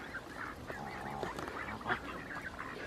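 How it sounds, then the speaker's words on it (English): Geese at Little Dawley Pools in Telford honking while being fed outdoors, a dense overlapping chorus of nasal honks and calls, close and continuous, with no talking. "I'm just feeding the geese here."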